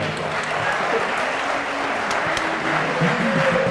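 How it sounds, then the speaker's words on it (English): An audience applauds at an awards event for a Michigan venture capital association honoree, a steady, dense wash of clapping that holds evenly throughout without any talk over it. "Round of applause for Adrian."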